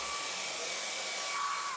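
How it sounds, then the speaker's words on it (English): A hair dryer blows steadily to dry paint in a sketchbook, a continuous close whooshing whine with no break. "I'm just going to use a hairdryer to quickly dry this off so that I can continue layering"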